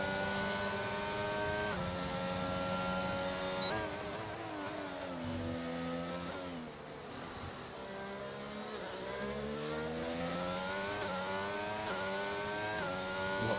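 Loud, sustained F1 race car engine from a racing video game, the high whine climbing through the gears in rising sweeps with brief drops at upshifts and a dip for a corner, close and continuous with no talk.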